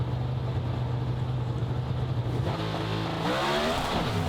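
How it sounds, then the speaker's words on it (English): Pro Stock drag racing car launching down a drag strip in an NHRA Gatornationals final, a loud sustained engine roar that shifts pitch midway as the tires shake, heard alone without talk. "Oh boy, Greg Anderson's car shook the tires."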